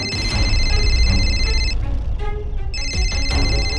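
A telephone rings with bright repeating electronic trills in two bursts separated by a short gap, heard over a dense, busy background of music and room noise.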